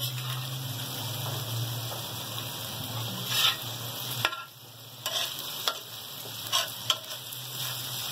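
Liver masala fries on a tawa with a continuous close sizzle and crackle, broken by scattered scrapes and stirring clatter from a spatula, and no voices.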